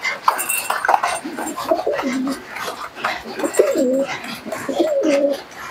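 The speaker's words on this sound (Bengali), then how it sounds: "কবুতরগুলোকে একটু ছাড়লাম, দেখুন" Giribaz pigeons let out of their cage coo softly in repeated low throaty phrases, with rustling and faint background noise, nearby and moderately quiet.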